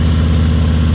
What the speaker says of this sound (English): that's how it idles?